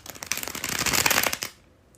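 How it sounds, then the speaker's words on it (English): A deck of cards gets a bridge shuffle, a close rapid fluttering riffle of cards building over about a second, then ending abruptly into quiet. "when I do the bridge shuffle as I'm about to do"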